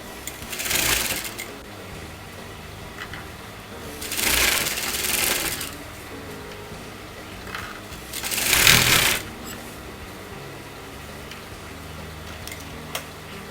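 A sewing machine stitches a kurta sleeve to the armhole, running in three short bursts of fast mechanical whirring and ticking separated by quiet pauses while the fabric is repositioned.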